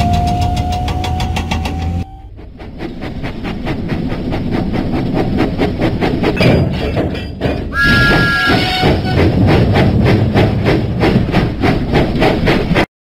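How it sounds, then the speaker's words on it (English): A cartoon steam tank engine from a Thomas & Friends video game chuffs out of the docks in a loud, rapid, rhythmic puffing over mechanical rumble and music, with a brief whistle-like tone partway through. "Thomas pumped his pistons and puffed out of the docks."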